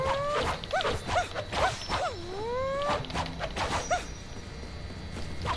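A game character in Shaolin Shuffle makes dog-like yips and whimpering whines, a series of short rising and falling cries over a busy, noisy background.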